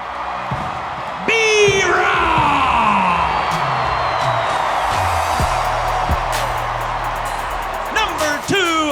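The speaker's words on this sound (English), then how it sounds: "Just to have that many people cheering for you at one time is pretty surreal." A big arena crowd cheers, whoops and yells without pause for Carolina basketball players as they are introduced, with loud whistles and a booming announcer-style voice rising through the roar.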